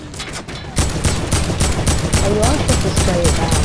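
A turret gun in the video game Food Wars fires rapid continuous bursts after a brief quieter start, loud and sustained, while a player talks over it.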